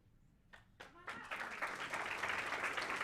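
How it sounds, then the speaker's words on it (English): An audience at an awards ceremony breaks into applause, a few scattered claps quickly swelling into steady, full clapping that fills the room. "applause."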